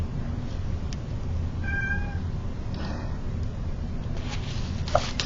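A cat meows to be let in, giving a couple of short, thin meows that sound a little distant over a steady low hum of room noise, with a faint knock or click near the end.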